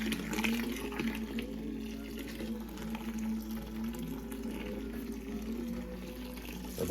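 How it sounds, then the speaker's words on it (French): Water running steadily into brewing gear during a London porter brew, a continuous moderate pour with a low tonal hum underneath, no voices. "De l'eau."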